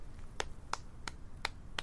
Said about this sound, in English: I turned to see who was clapping